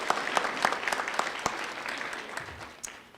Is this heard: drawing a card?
no